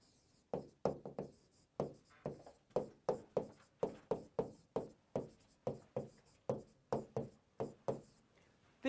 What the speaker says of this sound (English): I first have to write the residue classes mod 10.